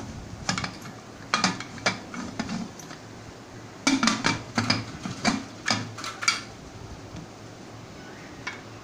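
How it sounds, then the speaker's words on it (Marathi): A metal pressure cooker lid clanks and scrapes as it is fitted onto the pot, giving a series of sharp close metallic knocks and clinks in uneven bursts, with no voices. "आता मी कुकरचं झाकण लावून दाखवत आहे"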